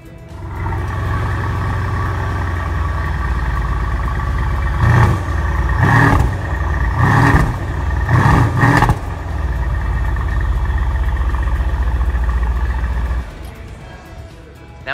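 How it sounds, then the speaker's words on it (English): A 2017 Mercedes-Benz S63 AMG with an AMG exhaust system starts up and settles into a loud, deep idle burble, with several sharp throttle blips in the middle before the rumble cuts off near the end. "Now with the AMG exhaust system, when I do start the vehicle, it does have a beautiful burble."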